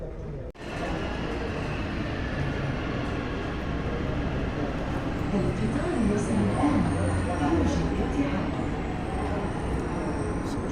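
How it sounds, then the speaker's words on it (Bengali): Airport shuttle train at Mumbai airport Terminal 1, a steady rumbling ride with rail and carriage noise that runs loud and continuous through the clip after a brief dip near the start. "যে ফ্লাইটেই যান আপনাকে এই ট্রেন নিতে হবে।"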